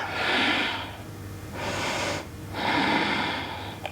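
Deep, slow breathing during a revolving triangle yoga twist, three long airy breaths in and out, close and fairly soft with brief pauses between them and no talk.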